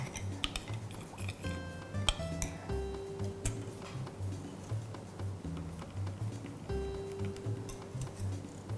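Melted white chocolate and butter are stirred in a bowl for strawberry blondie batter, with a spoon giving close, irregular ticks and clinks against the bowl over soft scraping.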